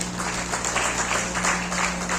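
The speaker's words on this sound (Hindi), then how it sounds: "आपकी शानदार तालियों के बीच में अशोक पटले से।" Audience applause at a celebration program in Balaghat, a dense wash of clapping heard through a hum-laden PA system, fairly steady and moderately loud.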